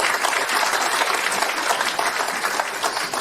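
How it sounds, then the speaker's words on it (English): Audience applause at a municipal election candidates' forum for Ward 2 in Belleville, a full, continuous roar of many clapping hands sustained at a steady level for over three seconds. "If you get a round of applause from the audience, please."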